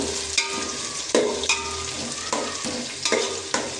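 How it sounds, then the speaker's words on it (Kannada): Onions fry in a pan for Mangalore-style chicken pulimunchi, a close, continuous sizzle broken by about six rhythmic stirring scrapes and clacks, with no talking. "ಇದು ಚೆನ್ನಾಗಿ ಫ್ರೈ ಆಗಬೇಕು"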